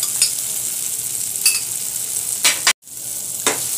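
Green chili and poppy seed paste frying for an eggplant korma, a continuous sizzle with several sharp scraping stirs, one brief cut to silence near the end, no talking.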